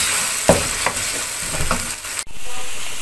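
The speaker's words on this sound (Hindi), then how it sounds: "अब इसमें हम अदरक लहसुन का पेस्ट डालेंगे। ये भुनाई करते हैं" Ginger garlic paste frying with browned onions in a pan for chicken kaleji, a steady loud sizzle with a few scraping stirs of a spoon against the pan.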